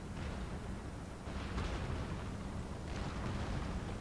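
Round shot artillery fires across a battlefield in Napoleon Total War, a dense, rolling rumble of booms and distant blasts that overlap into a continuous roar with no voices.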